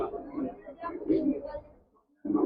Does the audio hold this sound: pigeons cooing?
yes